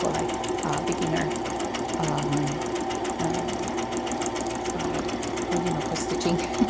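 A simple Brother beginner sewing machine stitching paper for a craft folder, a continuous fast mechanical whirr running steadily, with a voice talking over it.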